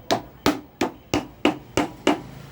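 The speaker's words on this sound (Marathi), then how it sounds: "हातोडीच्या साहाय्याने ते थोडं प्रेस करायचं हळूहळू." A hammer taps a mixer grinder coupler down into its slot, six sharp, evenly spaced metallic knocks at close range with short quiet gaps between them.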